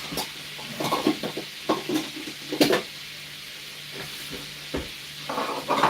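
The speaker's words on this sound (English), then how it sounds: "We're going to be stirring it" A spoon stirs jollof rice in a pot with a series of close, uneven scraping knocks over a low, constant sizzle, and no voices are heard.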